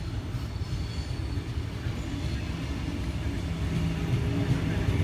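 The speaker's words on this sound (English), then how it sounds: "Tangara T47 passing platform 4" A Sydney Tangara train, set T47, passes platform 4 with a steady, moderately loud rolling rumble of wheels on rails that grows slightly toward the end.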